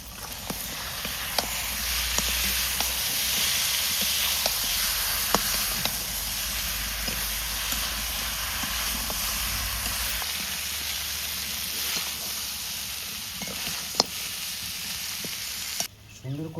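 Goat head frying in spiced masala where the oil has separated, a steady loud sizzle with scattered clicks and stirring scrapes throughout, a low rumble underneath for the first ten seconds, and no talking.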